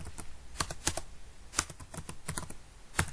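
Someone types code on a computer keyboard, a close, irregular series of crisp key clicks and taps, with no talking.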